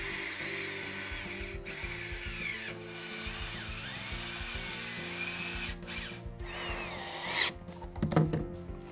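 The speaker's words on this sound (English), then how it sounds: "I also drilled 2 pocket holes at each end to connect the legs" A power drill bores pocket holes into southern pine boards for a picnic table's leg assembly, a steady whirring drone with bit chatter that runs close and loud throughout, rising to a grinding burst near the end.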